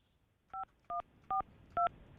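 A telephone number is dialed on a keypad: five short, evenly spaced DTMF beeps, fairly quiet and clean, with no talking.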